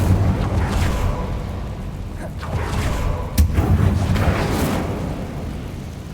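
Incendio fire spell cast in the Hogwarts Legacy video game: a loud, sustained fiery roar with booming bursts, one sharp crack near the middle, continuing throughout without talk.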